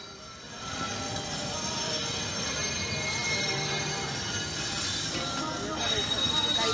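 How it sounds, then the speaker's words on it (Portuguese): A long freight train rolls past the rail line at Paranapiacaba with a steady, dense roar of wheels and cars on the track, continuous and fairly close, with voices faintly mixed in. "Trem de carga ali, ó."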